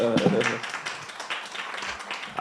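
A conference audience breaks into applause, a dense patter of many hands clapping that is loud at the start and then settles into steady, lighter clapping for a couple of seconds.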